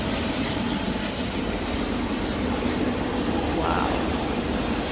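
A train runs along the rails with a steady, dense rumble and rushing roar that holds evenly throughout, close and loud, with no voices.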